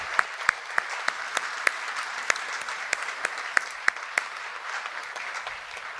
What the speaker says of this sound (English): would you please join me in a round of applause to thank them